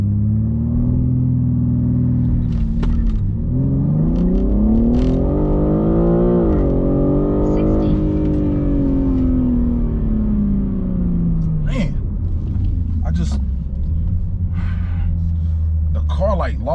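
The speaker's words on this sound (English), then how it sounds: "let's go ahead and see if I can activate launch control right now" A BMW G80 M3 Competition accelerates hard under launch control: the engine climbs loudly through gears in a rising, droning roar from inside the cabin, with a brief shift dip, then settles to a lower rumble as a person talks.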